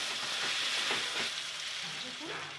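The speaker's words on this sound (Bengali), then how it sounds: "এবার আমি এই আদা বাটাটা দিয়ে দিলাম আর এই ধনে আর জিরে গুঁড়োটাও দিয়ে দিলাম, দিয়ে আমি ভালো করে আবার নাড়াচাড়া করে নিচ্ছি।" Ginger paste with coriander and cumin powder is stirred into sizzling masala for a Bengali aloo chicken curry, making a close, dense frying hiss with faint scraping underneath.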